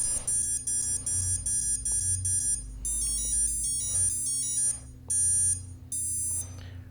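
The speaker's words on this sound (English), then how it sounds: "we should start hearing the ESC calibration sequence" A series of electronic beeps from an RC motor ESC running its calibration sequence on a 6-40V thrust stand: repeated high, clear tones in short bursts and longer held runs, loud and close over a low steady hum.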